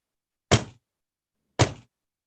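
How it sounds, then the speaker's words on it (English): African root drum struck twice by hand, each a deep, resonant thump with a short ringing decay, about a second apart, loud and close against silence. "So the root drum is the drum that is the sound of the universe."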